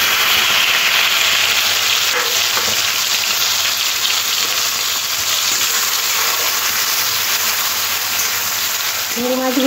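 Turmeric and salt coated prawns frying in very hot oil in a kadai, giving a loud continuous sizzle and crackle, close and steady, with faint stirring clinks near the end.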